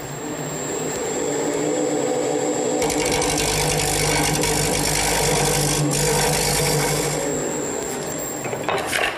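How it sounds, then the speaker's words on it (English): A parting tool cuts wood on a lathe, giving a loud, steady scraping rasp over the spinning motor's hum that runs most of the time and trails off near the end. "For this last portion, I'm going to use my parting tool to clean it up."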